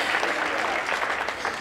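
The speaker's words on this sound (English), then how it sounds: "Let's clap for that." An audience claps steadily and fairly close, with even, dense applause for about a second and a half and no pause.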